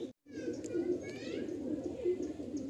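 Pigeons at a loft with birds for sale coo softly and steadily after a brief dropout, faint chirps mixed in, low and fairly distant.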